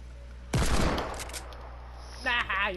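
Suppressed pistol fire in a team rumble video game lands as a sudden, loud, rapid burst of shots that fades out, followed by a brief voice near the end.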